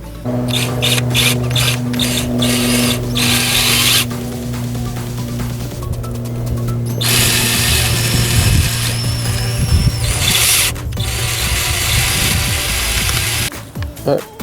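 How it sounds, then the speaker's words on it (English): A power drill whines steadily through metal in several long bursts, with brief pauses between runs and some nearby clatter. "when you're drilling metal stuff like that"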